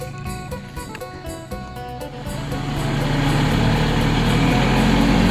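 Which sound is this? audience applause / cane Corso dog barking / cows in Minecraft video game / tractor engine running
tractor engine running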